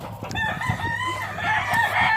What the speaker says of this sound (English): My chicken.